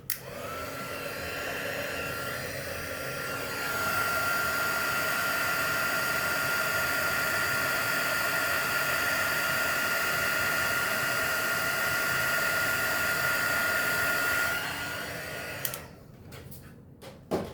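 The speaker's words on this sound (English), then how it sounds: "Bring my heat tool back in." Embossing heat tool blowing hot air during Stampin' Up Christmas card making: a steady, close whooshing roar that holds for about fifteen seconds, then cuts off.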